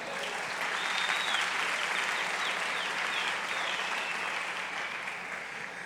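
Steady, even applause from a church audience fills the whole stretch, a dense wash of clapping at moderate distance with no talk over it.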